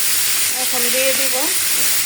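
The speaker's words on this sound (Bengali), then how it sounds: "করলা ভাজিটা বসাই দিতেছি।" Sliced bitter gourd (karela) sizzles steadily in a pan, a close, continuous frying hiss with a faint voice over it briefly.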